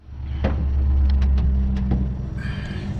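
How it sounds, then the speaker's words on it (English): A 2000 Lincoln Town Car engine cranks and catches, then settles into a steady low idle rumble close by, with a few brief clicks over the running engine. "So I fired up the car"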